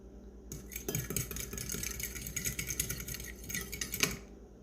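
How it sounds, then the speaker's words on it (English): An egg whisked in a bowl for keto fried chicken with pork rinds, a busy run of quick clinking utensil strokes against the bowl for about four seconds, close and fairly loud, with no talk. "throw our egg into the bowl there. We are. Give it a quick whisk"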